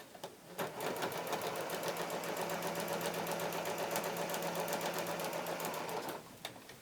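A sewing machine runs continuously for several seconds, stitching quilt block pieces with a fast, even mechanical rattle, close and clear, starting and stopping abruptly.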